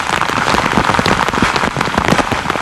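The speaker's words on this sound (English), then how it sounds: "The men move out into a steady rain." Steady rain falls on soldiers moving out along the Korean DMZ, a dense, loud, continuous patter of drops hitting surfaces with no voices.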